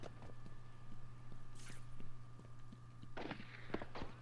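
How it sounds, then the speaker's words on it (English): A few sharp gunshot-like cracks in Batman: Arkham Asylum on PS4, fairly distant, over a steady electronic hum and background noise, with a louder burst near the end. "Oh man, hearing some gunfire."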